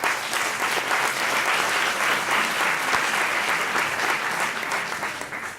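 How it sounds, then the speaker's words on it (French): Sustained audience applause at a university research-presentation show, a dense, steady wash of many hands clapping at once that holds strong throughout and tapers slightly at the very end, with no voices on top. "Sous vos applaudissements, s'il vous plaît"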